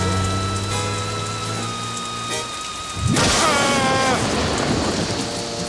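Heavy cartoon rain pours loudly and steadily, with a sudden sharp crash and rising rumble partway through over the constant hiss of falling water.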